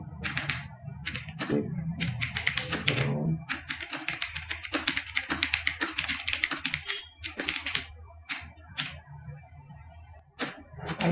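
Text typed on a computer keyboard, with bursts of rapid close clicks broken by short pauses and then sparser single key taps, no talking.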